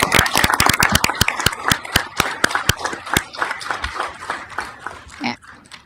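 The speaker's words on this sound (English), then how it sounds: "Let's give them a round of applause" Scattered, sharp handclaps from a small audience at a city council meeting, loud and close at first, then thinning out and fading toward the end with faint voices beneath.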